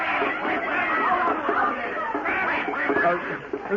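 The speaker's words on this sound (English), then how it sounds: "Get that duck! Somebody get that duck!" A duck quacking among a lively crowd at a Thanksgiving dance, its calls mixed into steady chatter and snickering laughter throughout.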